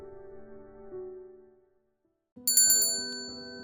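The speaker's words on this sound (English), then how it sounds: "the diner bell rang again" A diner's bell gives a bright metallic ring after a brief silence, loud and close with a long fading shimmer, preceded by a softer tonal sound that dies away.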